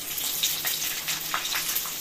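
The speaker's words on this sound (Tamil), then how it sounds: "எண்ணெய் ஊற்றி வறுத்துக்கிறேன்" Boiled bitter gourd pieces frying in hot oil give off a steady, close sizzling hiss with light crackles throughout, and no one speaks.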